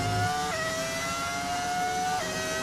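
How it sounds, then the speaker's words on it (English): Hybrid V10-style racing car engine from the F1 25 video game, a steady high-pitched whine holding at near-constant pitch with small shifts, loud and continuous with no talk. "brand new engine here in Season 3. Very, very similar to the V10 in terms of the sound that it outputs."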